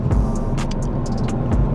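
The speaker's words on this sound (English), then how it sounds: "we're rolling around in the Supra" A 2020 Toyota Supra cruising in traffic, heard as a steady low engine and road drone from inside the cabin, with a few faint higher ticks and rustles over the continuous rumble.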